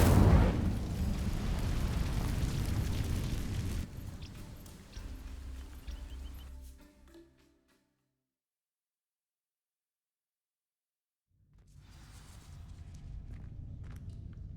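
Incendio fire spell cast in the Hogwarts Legacy video game, a loud burst that roars, fades into rumbling embers, drops to silence, then returns as a softer ambient bed.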